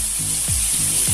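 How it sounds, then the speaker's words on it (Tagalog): Tomatoes sautéing in a pan for pakbet, a Filipino vegetable dish, give a steady, fairly loud hiss and sizzle, with a couple of soft scraping strokes as they are stirred. "Haluin natin yung maluto yung kamatis."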